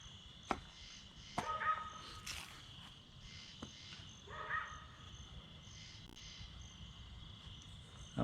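Faint, steady chirping of crickets and frogs fills a quiet night during an outdoor raku pottery firing, with a few soft knocks and thumps now and then.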